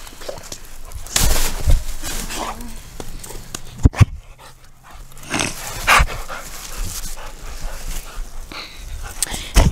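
An outdoor dog barks in sharp, scattered bursts with panting and snuffling between them, close to the microphone, and a person talks briefly in the background.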